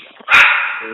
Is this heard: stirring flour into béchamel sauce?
no